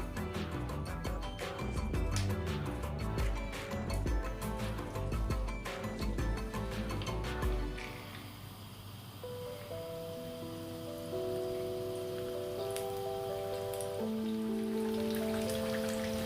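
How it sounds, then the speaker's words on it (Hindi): Marinated fish fillets frying in hot oil over a high flame, a steady hiss and crackle of sizzling that runs throughout, with music playing in the background. "अब हम फ़िश के जो फिलेट्स हैं इसमें फ्राई करेंगे"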